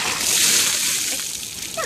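A bucket of ice water is poured over a person for an ice bucket challenge, making one close, sustained splash and slosh that tails off into dripping, with a faint gasp near the end.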